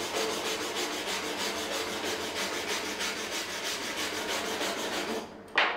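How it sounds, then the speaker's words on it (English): A wire brush scrubs a steel floor coated with rust killer that has dried to a black crystalline crust. Fast, steady rasping strokes sound close and continuous, then stop abruptly near the end. "We need to go through with a wire brush"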